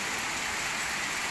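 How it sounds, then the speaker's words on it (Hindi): Heavy early-morning rain with small hail pours down in Bahria Town, Rawalpindi, a dense, even hiss of downpour filling the air without pause or voices. "बारिश बहुत ज़ोरों की हो रही है"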